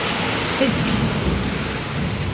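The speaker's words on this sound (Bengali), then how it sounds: "এখানে প্রচণ্ড বৃষ্টি হচ্ছে" Heavy rain pours down during a storm in Durgapur, a loud, dense, continuous roar of water with no break and no voices over it.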